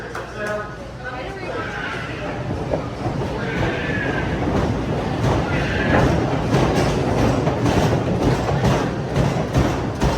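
A roller coaster train at Holiday World rumbles and clatters loudly along the track in a steady, continuous roar, with voices faintly mixed in.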